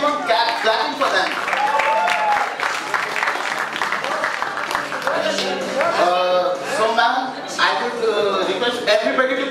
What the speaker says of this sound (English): Keep on clapping for them.